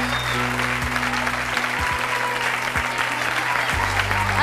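Studio audience at a French television talk show applauding as parents and children come on stage, steady dense clapping throughout, loud and continuous, with a low hum and occasional knocks beneath.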